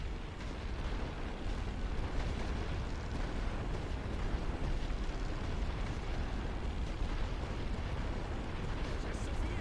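An artillery barrage in the World War I strategy game The Great War: Western Front, heard as a dense, unbroken roar of explosions and rumbling blasts that stays loud and steady throughout.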